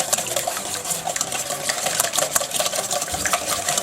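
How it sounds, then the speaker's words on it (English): A wire whisk beats eggs and canola oil in a bowl, making a steady, fast, close clatter that runs continuously with no speech. "we're going to beat this with the wire whisk, the eggs and the oil"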